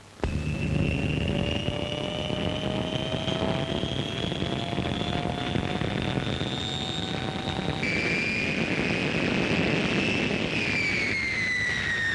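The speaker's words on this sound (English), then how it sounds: "Engine runs occupied the first afternoon." A de Havilland Comet jet airliner runs its engines on the ground: a loud, steady roar with high whining tones that climb slowly, then jump and shift partway through, continuing without a break.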